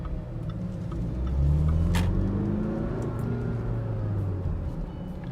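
Jaguar F-Pace 2.0d diesel engine fitted with a RaceChip XLR tuning module, revving with a steady low drone whose pitch rises and then hangs before slowly falling away, heard from inside the car with faint ticking.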